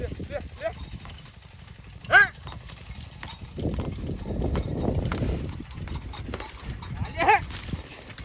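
Bullock hooves clop along at a steady pace while a man calls out to the animals now and then.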